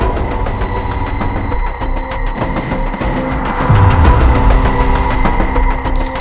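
A telephone ringing sound effect plays as a steady trilling ring over a dense, loud layer of dramatic background music and rumble, with no talking.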